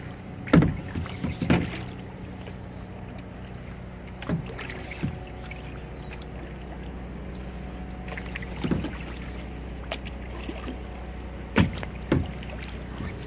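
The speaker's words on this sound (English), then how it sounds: "it's a bit hard to film and kayak at the same time" Kayak paddling through flood water in a residential neighbourhood, with occasional soft paddle splashes and knocks against the hull over a steady low background.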